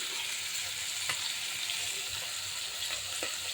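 Small dried fish frying in oil in a home kitchen, a steady bright sizzle throughout with a few faint stirring clicks and a soft knock at the end.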